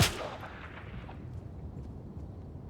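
A single gunshot from the video game Fortnite cracks loudly at the start, then fades into a rolling low rumble and background noise.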